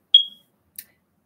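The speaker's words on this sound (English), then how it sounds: "Nancy said, Miss Ellen, I think you need to change the battery in your smoke alarm" A smoke alarm in the room gives a single sharp low-battery chirp, close and loud, then quiet with one faint click afterward.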